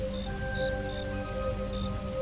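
Steady rain pours down in a Hindi horror audio drama while a rickshaw stands stalled with a slipped chain on the way to the train, a dense even hiss with no voices.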